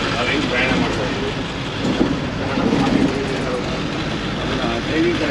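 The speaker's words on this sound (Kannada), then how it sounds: "ರೈಲು ಪ್ರಯಾಣ ಮಾಡ್ತಾ ಇದ್ದೀವಿ" Train running on rails during a journey, a steady low rumble and rattle of the carriage continuing throughout at a constant level, with people talking over it.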